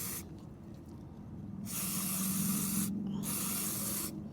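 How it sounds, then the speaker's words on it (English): Gumout mass air flow sensor cleaner sprays from an aerosol can into a car's air intake in a few close, loud hissing bursts, with short breaks between them. "I'm going to go ahead and shoot some of this in here."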